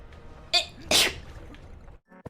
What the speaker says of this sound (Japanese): くしゃみ出る、やばい。